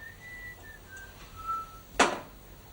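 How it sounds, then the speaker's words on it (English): A person whistles a few faint, wavering notes under a quiet room tone, followed by a sharp, brief sound at the end. "before I caught your eye in the mirror and you started to whistle"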